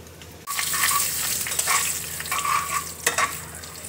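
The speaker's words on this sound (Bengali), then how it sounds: "এবার দেখো সাদা তিল দিয়ে দিচ্ছি" White sesame seeds are dropped into hot oil already holding whole cumin, bursting into a sudden loud sizzle that keeps crackling and spitting close by, with a few sharper pops near the end.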